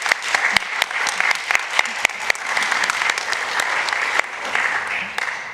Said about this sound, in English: can we just give a round of applause to this team